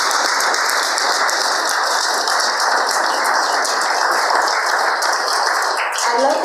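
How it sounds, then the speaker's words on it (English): A congregation at a spiritual service applauds together, dense steady clapping that fills the room at full volume and continues without a break. "I feel like clapping, so let's go"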